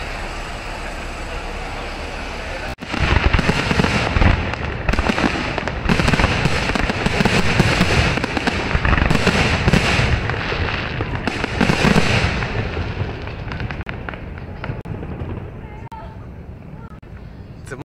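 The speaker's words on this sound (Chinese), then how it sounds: "怎么会这么刚好有烟火啊？" Fireworks exploding at night over a busy Sydney street near Sydney Tower, a dense run of loud cracks and booms that starts abruptly and keeps going with crowd noise beneath, then thins out toward the end.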